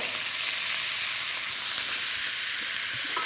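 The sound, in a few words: beef fillet sizzling as it's added to a hot pan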